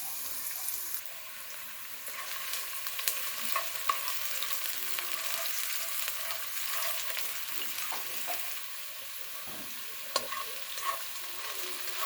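Onions with a yellow pepper and garlic mix frying in oil in a pan while being stirred, a steady close sizzle with occasional spoon scrapes and clicks, no voices.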